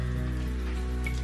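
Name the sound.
autumn rain falling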